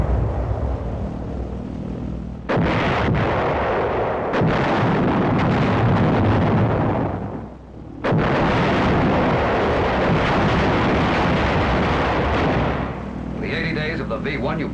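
V-1 flying bomb explosions and anti-aircraft fire, a loud sustained roar of blasts and gunfire with sharp onsets and a brief lull, dense and close throughout.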